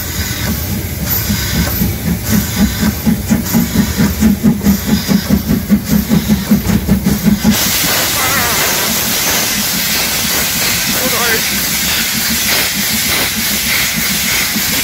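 A steam locomotive chuffs in a fast, regular rhythm, then gives way to a loud, continuous hiss of venting steam.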